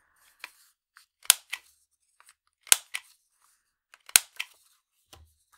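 Scissors snip through paper to round off the corners of a cut-apart piece for a gift card holder, with several short crisp cuts in separate bursts, close and fairly quiet, no talking.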